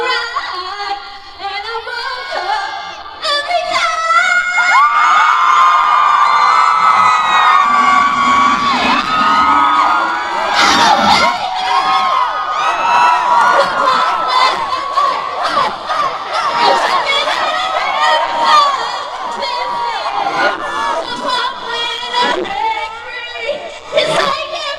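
A large crowd of fans at a show for actress Anne Curtis screams and cheers loudly and continuously, with high shrieks and shouting voices layered over music.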